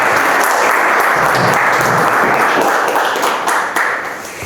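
A lecture audience at Universidad Andrés Bello applauds a physics lecturer before a class on gravitational waves: a short, loud, dense burst of clapping from a full room, easing slightly at the end.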